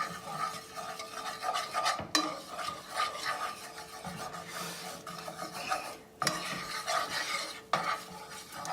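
Flour being stirred into melted butter in a pan over low heat for a chip beef sauce roux, with scraping utensil strokes against the pan, a soft sizzle underneath, and a few sharper knocks.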